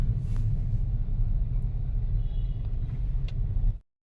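Car engine racing in place after reverse gear is forced in while driving, a loud, steady low rumble held for nearly four seconds before cutting off abruptly.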